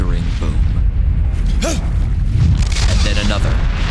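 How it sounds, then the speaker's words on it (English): A deep, thundering boom rolls out as a sound effect in an audio drama, heavy and loud, with a narrating voice running over and around it. "The dark silence is broken by a thundering boom."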